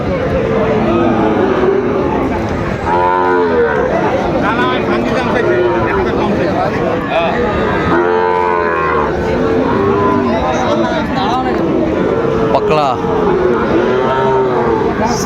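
Cattle, including a Sahiwal bull calf, moo repeatedly at a livestock market in Dinajpur, the calls rising and falling amid crowd chatter and people talking close by.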